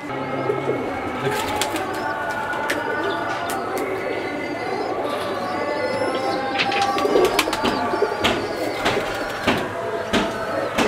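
Pigeons coo repeatedly in a soft, rolling chorus, with scattered flutters and clicks around them, close and steady throughout.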